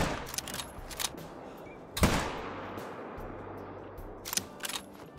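A single loud hunting rifle shot with a rolling, echoing decay, fired at a female alligator in theHunter: Call of the Wild, with a few quieter clicks and handling noises before and after.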